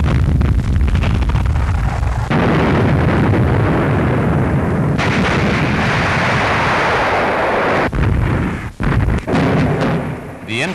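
Heavy artillery and aerial bombing of Pantelleria island by warships and aircraft, a dense, loud, continuous roar of booming explosions with a few abrupt breaks.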